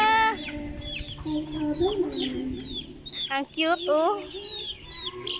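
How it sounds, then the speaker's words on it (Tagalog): Chickens cluck at close range on a family farm, with several short repeated calls and a large hen or rooster among them, while a few people talk and exclaim over the birds. "Oh, may manok pang malaki"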